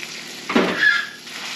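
A homemade rodeo burger fries in a pan, giving a steady close hiss that swells briefly in the middle with a sharper sizzling burst before settling back to a constant crackle.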